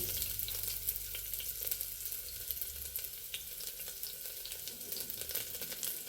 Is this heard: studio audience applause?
no